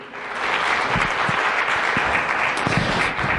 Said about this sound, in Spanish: Dale un aplauso al Señor por eso